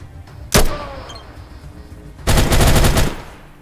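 An automatic firearm in the post-apocalyptic game ATOM RPG lets off one sharp crack, and after a pause a loud rapid burst of shots runs for nearly a second.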